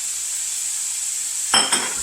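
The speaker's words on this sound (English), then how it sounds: "Give it a stir." Chopped chicken sausage and peppers stirred in a hot pan, a steady sizzle throughout with two brief scraping clanks of the utensil near the end.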